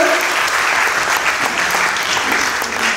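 Steady, loud applause from an audience at a live stage show in the Delphi Showpalast, dense clapping that continues evenly throughout.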